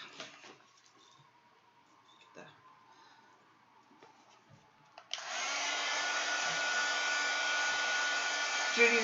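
A hair dryer blowing on a designer bag switches on midway and runs as a steady, close, loud whoosh after quieter handling noises and faint background sounds.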